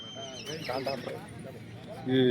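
At the Yeola horse market, a horse gives a clear, fairly close neigh and whinny, with people talking around it and the general noise of the market underneath.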